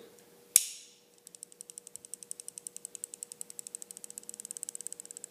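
A Cold Steel Recon 1 folding knife gives one sharp click, then a steady run of faint, quick, evenly spaced metallic rattles from inside it as it is shaken, close up in a quiet room.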